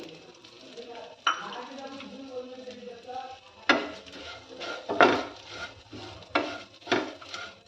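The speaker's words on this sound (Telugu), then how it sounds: "ఈ డ్రై ఫ్రూట్స్ తీసిన తర్వాత మిగిలిన అదే నెయ్యిలోకి ఒక కప్పు అటుకులు వేసి మనం బాగా దోరగా వేయించుకోవాలి" A cup of flattened rice (poha) tossed in leftover ghee after frying dry fruits for a sweet payasam gives a soft sizzle under loud, intermittent bursts of a spoon scraping and rattling against the pan.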